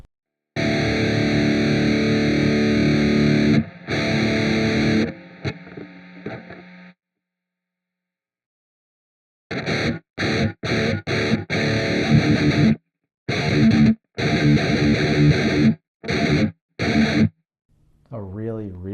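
Loud distorted electric guitar chords through a Neural DSP Archetype Gojira X noise gate cut off abruptly into silence, then choppy stabs that stop dead between hits, ending on a brief wavering note.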